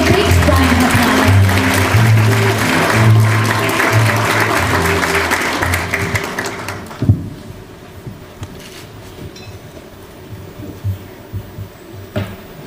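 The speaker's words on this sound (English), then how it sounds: "Please welcome him with a big round of applause" Audience applause at a formal World Bank Korea office 10th anniversary event in Korea, welcoming the Deputy Prime Minister to the stage; loud steady clapping with background music fades after about seven seconds into a quiet room with a few faint knocks.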